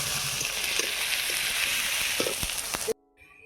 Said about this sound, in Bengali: আদা রসুন বাটা, আদা রসুন পেঁয়াজটাকে ভালো করে ভেজে নেব।